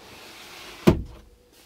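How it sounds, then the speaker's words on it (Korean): A short motorized whir and thunk as a Hyundai Staria camper van's side window slides open, followed by quieter outside air and faint wind. "쪽 창문을 열어볼게요."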